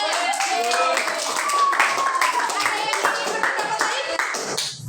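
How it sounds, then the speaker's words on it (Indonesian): Steady applause from a group, hands clapping continuously with a bright crackle and some voices mixed in, fading slightly at the end. "tepuk tangan dulu untuk"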